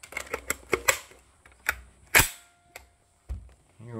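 A Q Full Nelson rifle fired at a range day without hearing protection gives one sharp, loud crack, surrounded by softer clicks and handling noises of the gun's action.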